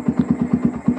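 Yamaha Vixion supermoto motorcycle engine running with a steady low pulsing beat of evenly spaced firing thumps, loud and close, no talking.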